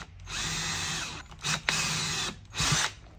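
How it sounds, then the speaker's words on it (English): An electric drill bores small pilot holes in the leather of an old German WW1 boot, running in three close, loud whirring bursts: a long one, a second and a short final one, with no talk. "just grab our drill and just make some tiny little pilot holes to get it started"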